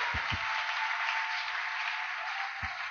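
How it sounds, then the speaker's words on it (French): Church congregation applauding at a Sunday worship service, a steady wash of clapping throughout with a few low thumps near the start and end. "Applaudissons fort le Seigneur."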